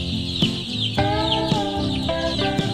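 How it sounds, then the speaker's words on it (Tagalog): Eleven-day-old chicks in a heated, ventilated brooder house chirp and peep in a lively, overlapping chorus, close by and loud, with no talking. "So 11 days old na sisiw."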